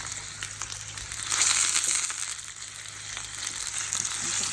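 Sausage frying in a pan alongside cooked peppers and onions, giving a dense, steady crackling sizzle close up that swells briefly in the middle, with no voices.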